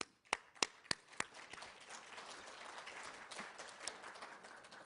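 Audience applause at a trade forum starts as a handful of sharp, separate claps, then thins into faint, scattered clapping in a quiet hall.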